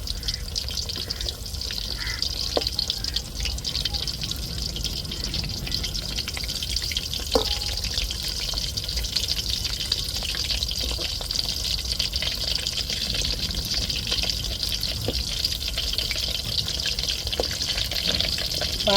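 Fish cutlets sizzle and crackle steadily in hot oil in a pan, a continuous close frying hiss broken by a few faint clicks and scrapes as they are gently turned over.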